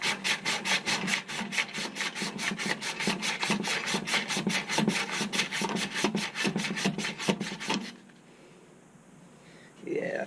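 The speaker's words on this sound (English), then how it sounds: "Maybe just sand it a little bit more." Steady back-and-forth strokes sanding a part off an A/C unit during an HVAC repair, a fast even rhythm of rasping rubs lasting about eight seconds and then stopping, close and fairly loud.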